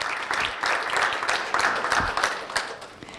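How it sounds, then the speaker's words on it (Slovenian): An audience applauds a Prešeren award winner at a university awards ceremony, with dense, steady clapping from a full hall that tapers slightly toward the end. "En aplavz torej za Prešernovo nagrajenko."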